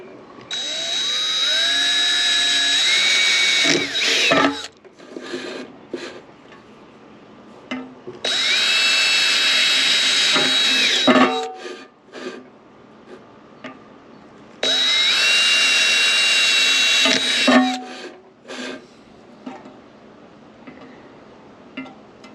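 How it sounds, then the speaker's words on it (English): Electric drill with a bit boring holes for the bolts of a homemade hobo stove, three loud sustained whining bursts of several seconds each separated by quieter handling clatter. "I got a drill bit that's about the same size. That's what I'm going to use."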